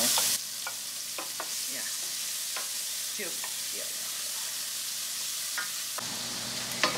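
Butter and finely chopped onion fry in a pan with a steady close sizzle, broken by occasional scraping stirs, while a voice briefly says something.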